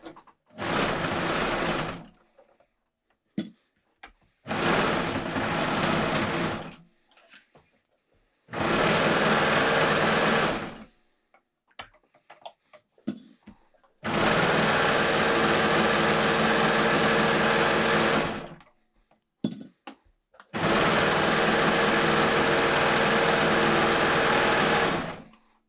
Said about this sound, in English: I'm going to serge until I cut my tail